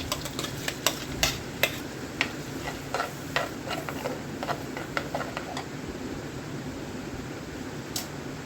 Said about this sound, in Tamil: இப்போ நம்ம பேஸ்டெல்லாம் ஆட் பண்ணி கொஞ்சம் கிண்டி விட்டுக்கலாம்